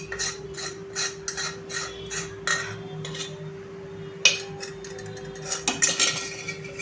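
Sweet shankarpali mixture with cardamom powder being poured into a kneading vessel, heard as steady scraping and clinking of a utensil against the pot with occasional sharper metallic knocks, fairly close and without speech.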